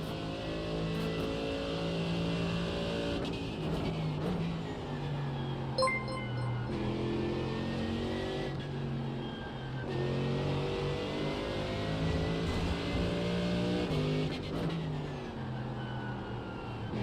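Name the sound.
GT3 race car engine revving in a racing video game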